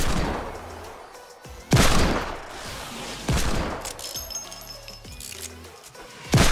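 Scoped revolver fire in Fortnite Battle Royale: three loud, sharp gunshots spaced about a second and a half apart, each with a booming tail, followed by a fourth at the end, over a steady game background.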